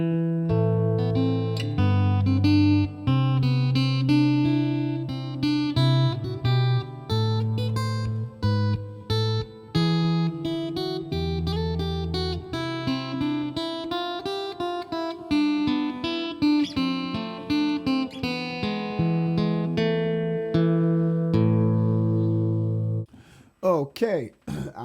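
A guitar plays a riff through a continuous, full-sounding run of plucked notes with a shifting bass line, loud and close with no voice over it, ending in a brief burst of noise.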